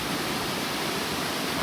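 Glen Ellis Falls in the White Mountains of New Hampshire, a steady, dense roar of falling water heard up close from rocks above, broadband and unbroken with no voices over it.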